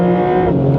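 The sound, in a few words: Porsche 911 Carrera 4 GTS engine revving on kickdown in Sport Plus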